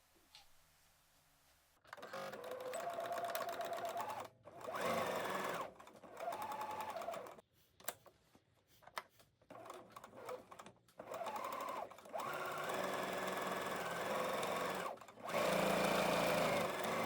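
Several separate bursts from a sewing machine stitch a skirt side seam, starting and stopping repeatedly, with short gaps between runs.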